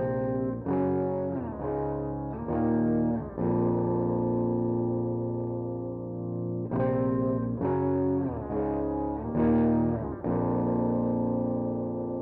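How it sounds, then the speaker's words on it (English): An electric guitar runs through Studio One's Ampire emulation of a Vox AC30 amp, playing sustained chords and phrases with slight crunch and chorus-like shimmer, loud and alone. "we're using a amp mod of, or amp emulator of, a Vox AC30 sound"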